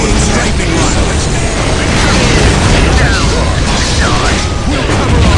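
Strafing-run explosions from the real-time strategy game Warhammer 40,000: Dawn of War Soulstorm, Imperial Guard campaign: a dense, continuous roar of booms and blasts under game music, loud throughout with no pauses.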